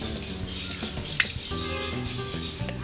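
Water poured from a small metal pot over a tulsi platform outdoors, a short close splashing trickle with faint clinks.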